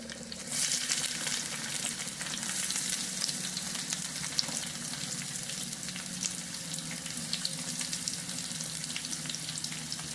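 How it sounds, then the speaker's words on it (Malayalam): Chopped bitter gourd for a Kerala thoran hitting hot oil in a pan with cumin, giving a steady, dense sizzle that holds loud and unbroken throughout, with faint scraping of stirring underneath and no voices. "നമ്മൾ അരിഞ്ഞു വെച്ചിരിക്കുന്ന പാവയ്ക്ക തോരനുള്ള കണ്ടൽ ഇട്ട് കൊടുക്കണേ"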